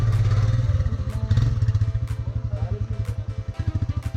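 A Royal Enfield motorcycle at a 2023 trail riding school chugs along at low speed under clutch control, its single-cylinder thump pulsing steadily and loudly up close, with slight surges as the throttle opens.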